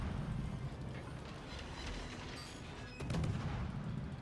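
Naval gunfire from warships in the World of Warships video game, with booming salvos and rumbling blasts over a dense, steady battle background, heavier at the end.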